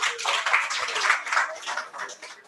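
Warm applause from an audience at a tech meetup talk carries steadily through the whole moment as a dense, even patter of many hands, moderately loud, with no voices over it.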